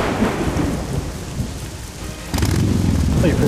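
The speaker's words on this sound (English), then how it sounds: "it's raining now" Rain and thunder in the video game Orion Prelude: a steady hiss of rainfall with a low rumbling roll that swells louder partway through, no talk over it.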